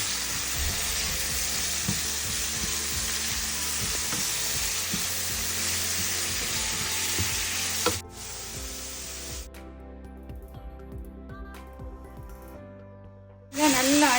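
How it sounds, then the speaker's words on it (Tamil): Mint, green and dried chillies and ginger sautéing in oil for a mint chutney: a loud continuous close sizzle for about eight seconds, then quieter clinks and stirring, and a burst of sizzle returns near the end. "இந்த நேரத்தில் நம்ம திட்டமாக எண்ணெய் சேர்த்து இதை வதக்கலாம்."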